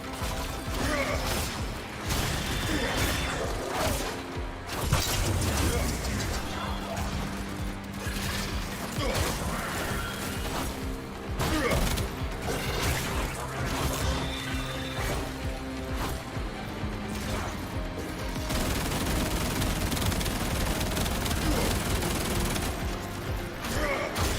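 Weapon alternative fire in the video game Warframe, dense bursts of mechanical gunfire, clanks and crashing impacts layered over game music, loud and continuous throughout.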